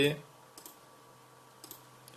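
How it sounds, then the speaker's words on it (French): A computer mouse clicking while working in Cinema 4D: a few soft, quick clicks in pairs and singles, like double-clicks, in a quiet room with faint hum. "Je double-clique dessus et je choisis la couleur verte"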